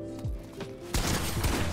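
An automated turret fires rapidly in the Fortnite video game, a dense burst of loud gunfire that starts abruptly partway through after a few softer shots.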